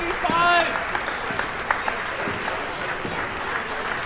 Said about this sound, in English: round of applause from their bench